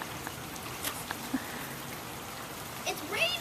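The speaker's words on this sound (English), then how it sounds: "It's raining. It's seriously raining." Rain falling outdoors on the Fourth of July, a steady soft hiss with light patter on surfaces and a few faint background sounds.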